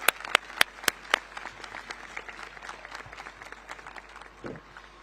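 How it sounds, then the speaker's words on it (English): Graduation ceremony crowd at Akins Early College High School giving a round of applause, opening with several loud sharp claps that fade into a sustained, softer wash of clapping across a large hall. "Please help me give them a round of appreciation, round of applause."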